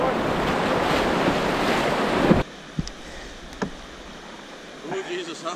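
Choppy water slaps and rushes near a canoe on the Great Glen Canoe Trail in Scotland, with loud wind buffeting the microphone. It drops suddenly to quieter lapping and scattered knocks.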